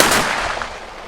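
A loud, sharp rifle volley fired in tribute to fallen soldiers at a cemetery memorial bursts at the start and fades into a short, broad outdoor echo.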